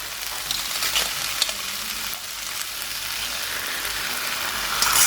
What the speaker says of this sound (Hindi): अब बारी है जिसमें इमली का गूदा डालने की